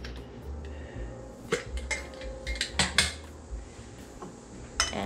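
Almonds poured into a measuring cup while preparing homemade granola: a close run of hard clattering rattles and clinks over a few seconds, with no talking.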